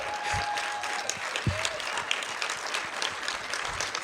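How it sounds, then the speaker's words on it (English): Applause from an audience at a startup demo day event, steady dense clapping filling the whole stretch at moderate distance, with no voices over it. "give a especially loud round of applause"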